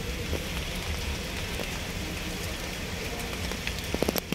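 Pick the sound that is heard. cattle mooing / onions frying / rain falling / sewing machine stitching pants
rain falling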